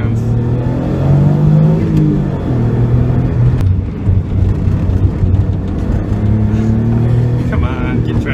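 An Autozam AZ1 accelerates hard through a corner, its engine loud and close, the revs climbing and dipping in a strained, buzzing note with a low rumble underneath.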